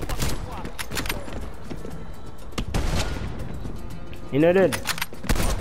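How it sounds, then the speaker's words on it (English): Sharp bursts of gunfire crack through a Call of Duty Black Ops Cold War mission, scattered shots and a louder volley near the end, heard beneath a voice talking over the action. "I'm shooting Mason, bro."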